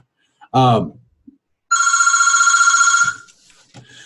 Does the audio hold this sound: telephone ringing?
yes